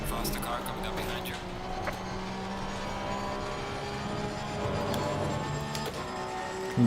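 Race car engines droning steadily in Assetto Corsa Competizione during the Bathurst 12-hour endurance race, with a faster car drawing up from behind to pass, all beneath someone talking.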